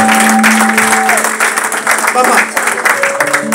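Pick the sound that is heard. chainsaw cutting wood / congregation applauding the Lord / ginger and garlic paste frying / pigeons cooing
congregation applauding the Lord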